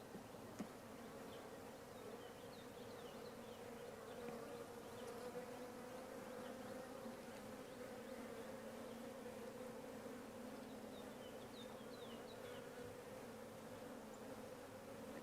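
Bees buzz steadily around a beehive, a dense continuous hum of many insects close by, with no talking.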